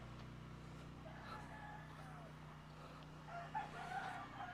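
A fighting rooster crows faintly in the distance in a yard, its call rising near the end over a low steady engine-like hum.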